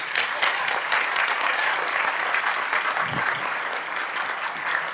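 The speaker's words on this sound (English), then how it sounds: "Please give yourselves another round of applause." Sustained applause from a board of education meeting audience, a dense steady wash of many hands clapping at even loudness throughout, with no clear speech over it.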